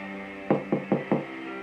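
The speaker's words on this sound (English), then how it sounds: "Bright was interrupted by a knock at the door" Four firm knocks on a door in an even, quick rhythm, close and distinct over a faint background hum.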